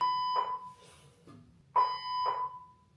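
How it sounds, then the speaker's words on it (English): A fire alarm in Toronto goes off in shrill electronic beeping bursts, two separated clusters with a pause between, fairly loud over a low steady background hum. "the fire alarm situation has ceased."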